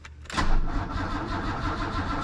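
A BMW E30 fitted with an S38 engine cranks briefly and fires up, catching quickly into a loud, rough idle that rumbles on close by, with no voices.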